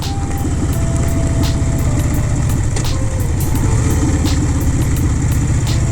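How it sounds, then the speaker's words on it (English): A loud Harley-Davidson motorcycle with Vance and Hines exhaust pipes rumbles close by, its deep steady thumping firing pulses continuing throughout, with no talking. "everybody can check out the extra loud Harley with the extra loud thumping of the"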